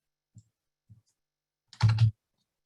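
Keyboard typing into a search box in the Canva design app, two soft isolated key taps followed by a louder quick double clack, close and alone against silence.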